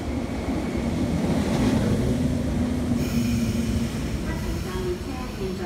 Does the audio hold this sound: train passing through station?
yes